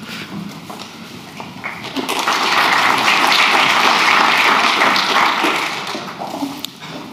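An audience at a medical technology conference day claps for an incoming speaker, a steady wash of applause that swells, holds loud for several seconds, then tapers off.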